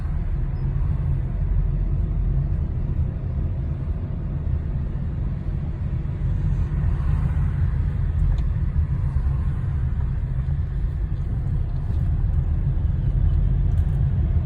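Interior of a car rolling slowly around the Bahçelievler driving exam course, a steady deep road rumble and low engine drone filling the cabin evenly without pause, no talk present.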